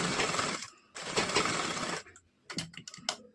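A sewing machine runs in two quick bursts of stitching along a half-inch folded hem of blouse fabric, followed by a few short clicks and taps of the machine mechanism, close up.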